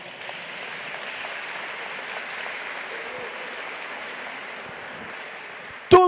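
A conference audience claps steadily and evenly for several seconds in a hall, a dense wash of hands that ends in a sudden loud knock or bump.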